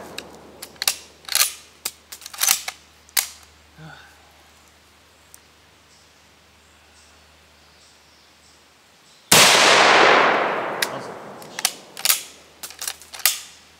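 Rifle shooting with a .22LR and an M44 outdoors: scattered sharp cracks and mechanical clicks, then one loud, close blast whose echo rolls away, followed by more clicks and faint voices.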